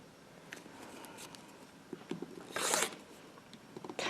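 Rotary cutter slicing through stacked fabric squares on a cutting mat for a quilt block, a brief scraping rasp near the middle amid soft handling taps and rustles.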